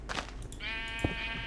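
A Minecraft sheep in the FTB Unleashed modpack gives a long, wavering bleat after a few soft taps. The call is clear and close and holds steady until the end, with a brief click partway through.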